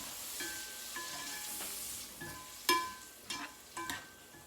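Chopped onion, green pepper and celery sauté over medium heat in a pan for Creole shrimp and sausage, with a soft, quiet sizzle and a few sharp utensil clanks near the end.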